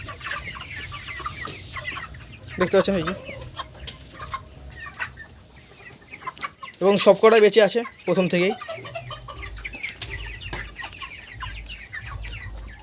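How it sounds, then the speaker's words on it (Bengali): Desi hens in a poultry house cluck and cackle in a couple of loud close bursts between quieter stretches, while someone talks over them. "এই ঘরের মুরগিগুলোকে, এই যে যেগুলো আমি ডিম পাড়ার জন্য পুষছিলাম, যে দেশি মুরগিগুলো"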